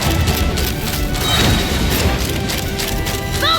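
Cannon fire in the video game Genshin Impact, a dense, continuous roar of booms and crashing impacts that stays loud and steady throughout, with a few bright chiming game effects near the end.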